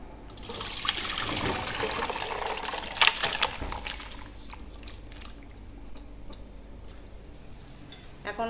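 Goat meat curry with garam masala sprinkled on top is stirred and mixed in a pan, giving wet, scraping, sloshing sounds with soft sizzling. The stirring is busiest early on and then eases into quieter bubbling, with no talking.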